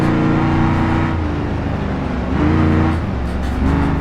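A modified dirt car in BeamNG.drive roars loudly and steadily, its engine revving up and down in rising swells as it laps the track, close and dominant with no talk.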